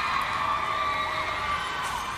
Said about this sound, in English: You hear the agents cheer and scream